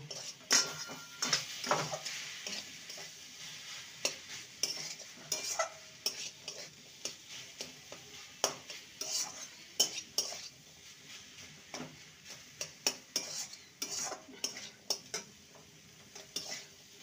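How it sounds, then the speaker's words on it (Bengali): Potato and vegetables mixed in a pan over a medium gas flame: quiet frying under irregular clinks and scrapes of a spoon against the pan, close by, with no talking. "গ্যাসের ফ্লেমটা মিডিয়ামে রেখে ভালো করে আলুটাকে সবজির সঙ্গে মিশিয়ে নিতে হবে"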